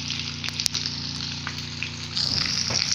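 Nargisi kofta deep-frying in hot oil make a loud, continuous bubbling sizzle up close, with a few sharp clicks early on and the frying swelling louder in the final second.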